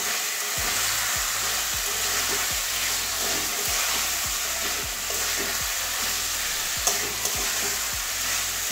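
A pan sizzles steadily with potato and papaya frying in spices, close up, while a utensil stirs and scrapes in repeated strokes; no voices.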